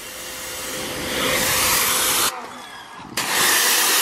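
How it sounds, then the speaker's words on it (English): A pressure washer sprays the bug-covered front end of a vehicle, a loud steady broadband hiss that dips briefly when the spray moves off, then surges back at full strength. "I'm just going to literally pressure wash the front end and get the bugs off"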